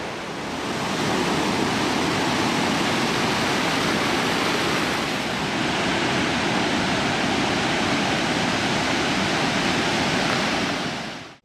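Watson River near Kangerlussuaq in flood from abnormal glacier meltwater off the Russell Glacier, a steady, loud, broadband roar of torrential water rushing continuously without pause or voices.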